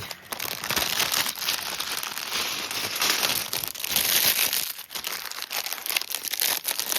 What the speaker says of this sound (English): So I'm just going to crack it open here. It actually comes in packaging, plastic packaging.